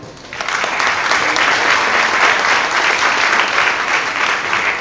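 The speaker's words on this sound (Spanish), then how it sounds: "Un aplauso para Xavier." An audience at a business forum breaks into steady, dense applause that quickly swells and holds at full strength, heard close and alone.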